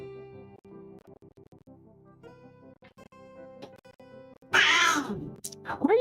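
Pet cat at home lets out a couple of loud, close meows after a quiet stretch of low musical tones, with no one talking.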